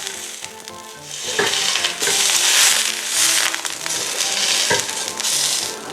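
Beef pieces fry in hot oil in a pan, giving a loud, steady sizzle with crackling swells and occasional scrapes of stirring, close up and without talk.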